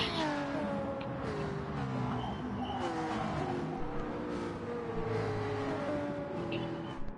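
BMW race cars in a racing video game sweep through corners, their engines revving and shifting pitch continuously at close range, with overlapping whines and tyre noise layered throughout.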